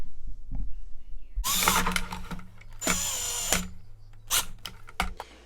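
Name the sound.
power tool tightening nuts down on screws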